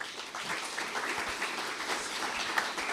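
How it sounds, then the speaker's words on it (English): Round of applause from a conference audience at a sustainability transition event, steady scattered clapping heard at a moderate distance with no talk over it. "I invite you to give them a round of applause to start with."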